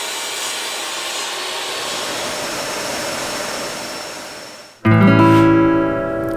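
A power saw cutting a short piece of scrap wood into tabletop supports for a workbench runs as a loud, steady roar that fades slightly. It then cuts off, and the motor winds down with a tonal whir, close up and with no talking.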